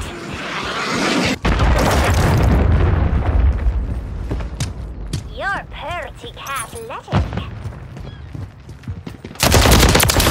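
Rapid gunfire and bursts of shooting in a Call of Duty Modern Warfare 3 multiplayer match on the Greece map, loud and continuous, with in-game voice callouts and radio chatter over it.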